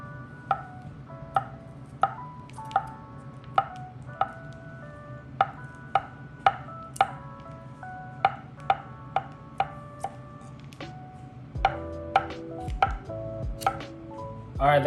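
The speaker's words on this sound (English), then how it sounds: "that concludes the first cuts on the Miyabi Birchwood" Miyabi Birchwood chef's knife chopping mushrooms on a board: crisp, evenly spaced knife strikes at a steady pace, close and clear over a quiet background, then a busier run of quicker cuts near the end.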